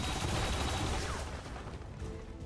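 Assault cannon fire aimed at troopers in the video game XCOM 2, a dense burst of rapid gunfire blasts with low rumbling booms, fairly loud at first and tapering slightly.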